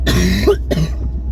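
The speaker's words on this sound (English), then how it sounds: "It's just a cough." A man gives a close, loud cough of two harsh bursts, with a brief throat-clearing rasp between them and nothing else around it.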